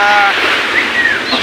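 Sea waves washing ashore at Cijeruk Indah beach in Garut, West Java, a steady broadband surf wash with some wind, close and fairly loud, with faint voices and whistle-like tones over it.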